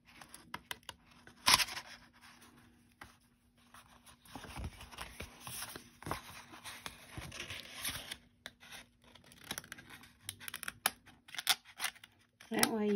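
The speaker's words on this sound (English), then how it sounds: "let's cut a little bit more" Scissors cutting paper for a crafted pokey tool box, a series of short snipping and rustling bursts close by, spread irregularly with pauses and occasional handling noise.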